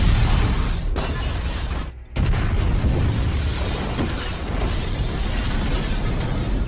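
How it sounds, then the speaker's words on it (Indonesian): A rocket-propelled grenade blast destroys a house in a John Wick action film, heard as a loud, sustained rumbling roar that cuts out briefly near the two-second mark and then surges back; no voices. "kemudian meluncurkan RPG untuk meledakkan rumah John beserta istrinya"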